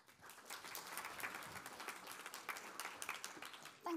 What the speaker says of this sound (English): So a round of applause for Ellen.